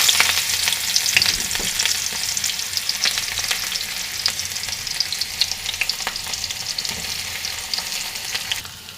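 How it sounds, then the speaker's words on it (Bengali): Chopped onion fries in hot oil in a wok, giving a loud, steady, crackling sizzle that fills the whole stretch with no voices. "কড়াইয়ের ভিতরে তেল দিয়ে দিছি। এবার আমি দিয়ে দিব এর ভিতরে পেঁয়াজ"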